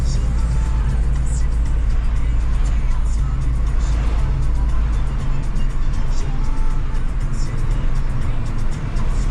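Busy road traffic with many cars during the rainy season: a constant loud roar of engines and tyres, with individual vehicles swelling and passing close by, no voices above the din.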